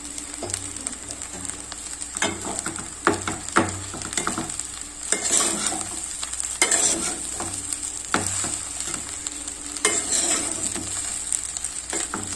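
Egg fried rice stir-fries in a pan after vinegar goes in, giving a continuous close sizzle broken by repeated scraping and tossing strokes of a spatula. No speech is heard.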